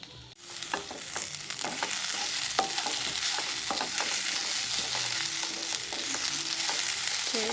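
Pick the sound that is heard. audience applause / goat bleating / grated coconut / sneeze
grated coconut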